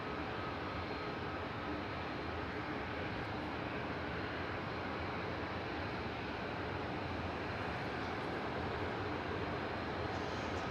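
A Boeing 737 MAX 8200 airliner rolls onto the runway, giving a steady, faint, distant jet roar with no voices.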